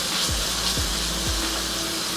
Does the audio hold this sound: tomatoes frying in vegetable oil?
yes